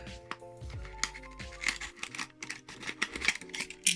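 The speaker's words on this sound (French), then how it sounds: "Je vais rechercher mon cutter pour ouvrir." A utility knife slices open the plastic packaging of an eyeliner at close range: a series of short scraping cuts and crinkly tearing bursts in an uneven rhythm, with small clicks between strokes.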